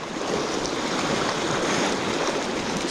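Sea swell and surf roll onto a coastline in early winter, a continuous broad wash of breaking water with some wind noise, loud and steady throughout with no voices.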